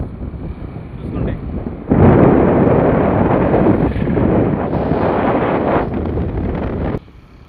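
Wind buffets the microphone on the road from Vetapalem to Ramapuram beach, a loud, rough roar that jumps up suddenly, holds steady for several seconds, then drops off abruptly near the end.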